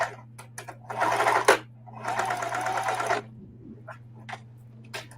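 A sewing machine set to a longer stitch length runs through thick layers of heavy denim jeans in two bursts of fast, close mechanical rattling, with softer clicks and handling taps before, between and after.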